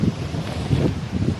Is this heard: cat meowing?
no